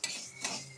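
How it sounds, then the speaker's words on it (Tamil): Black gram being dry-roasted in a kadai: two quick scraping strokes of a spatula across the pan, close and fairly quiet. "ஒரு கடாயை வச்சுட்டு அதில் கருப்பு உளுந்தை வறுக்கிறாங்க."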